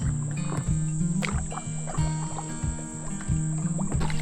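Paddle strokes from a paddle board on a river near Houchin Ferry, rhythmic dipping and splashing of water close by, with a steady low hum and a faint high whine underneath; no voices.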